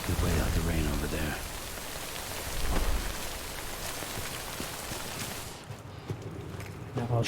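Steady rain hisses across the scene in the video game Death Stranding, a broad constant wash with rumbling low swells. It briefly drops away near the end, and a voice speaks over the downpour early on.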